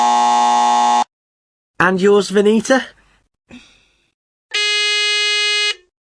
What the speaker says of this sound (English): they press any button on their phone and we'll hear a buzzer